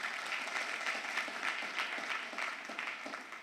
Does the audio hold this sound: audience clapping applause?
yes